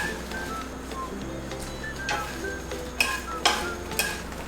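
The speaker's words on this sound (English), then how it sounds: "stir fry until they turn crispy. Fried tofu." Tofu stir-fried in a pan until crispy, with soft sizzling and several sharp scraping clicks of a utensil against the pan toward the end.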